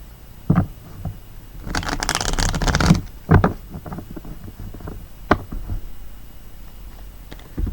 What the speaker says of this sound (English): So let's go ahead and pull some crystal cards to finalize your reading